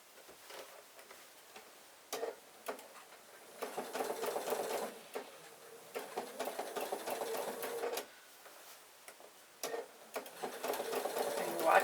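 A sewing machine stitches appliqué flowers onto quilt blocks in short, stop-start runs of quiet, rapid ticking, close but soft, with pauses as the fabric is adjusted.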